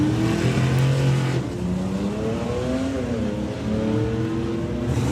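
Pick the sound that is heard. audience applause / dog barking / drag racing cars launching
drag racing cars launching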